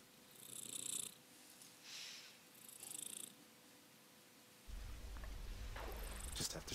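Meowing mini tanks in the Hades video game give off a few short, purring, cat-like bursts. A louder low rumble takes over near the end.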